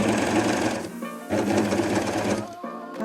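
A coverstitch machine hems the bottom of a knit garment, stitching in steady whirring bursts that pause briefly twice and then resume close and loud.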